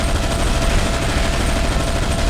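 Dense, loud gunfire from the video game Alien Shooter 2 roars in a continuous barrage, overlapping shots blurring into one sustained rattle with no pauses.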